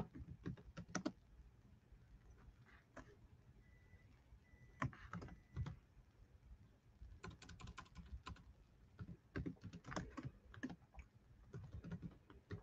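Close-up typing on a computer keyboard, irregular bursts of clicky keystrokes with brief pauses, quiet and without talk.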